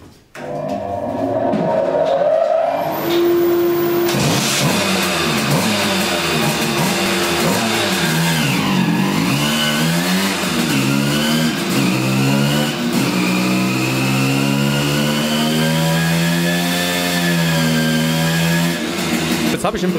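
A tuned car engine runs at full throttle on a dyno test bench, a loud sustained roar with rising and falling harmonic sweeps as revs climb, close up, with someone speaking over part of it.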